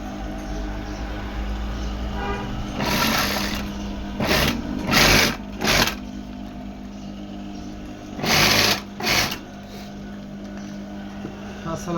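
A sewing machine stitching shopping bags in a small bag factory runs in several short bursts of rapid whirring, separated by quieter pauses, against a steady background hum.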